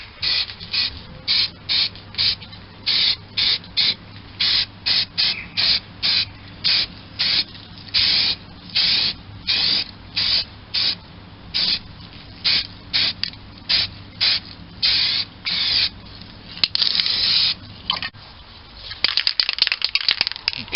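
A spray gun applies a primer coat to a 1946 Boxford lathe in bursts, loud hissing sprays in a steady rhythm of short pulses with brief pauses, ending in a longer continuous spray.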